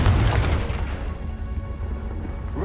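A Confringo explosive spell goes off in Hogwarts Legacy, a loud, deep boom that bursts at once and rolls away into a low rumbling tail.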